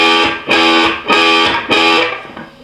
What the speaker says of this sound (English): you mute the notes with the palm of your hand to stop them